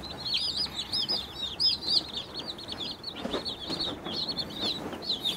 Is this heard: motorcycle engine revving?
no